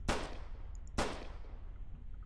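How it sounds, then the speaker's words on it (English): Two sharp, loud police gunshots aimed at a car's tires ring out about a second apart during a Kansas Highway Patrol traffic stop, each crack trailing off into a brief echo. "I'm going to be going for tire shots."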